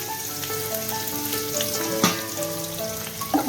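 Sliced onion and spices frying in a pan, with a steady close sizzle and crackle and a couple of stirring clatters, with no talking over it.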